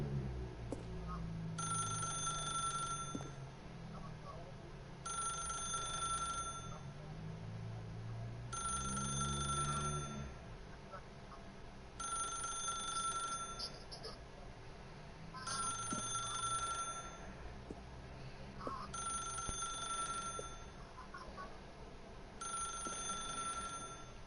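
An old-style telephone bell rings in repeated bursts, about eight rings with short gaps, inside the video game The Stanley Parable, over a low murmuring background.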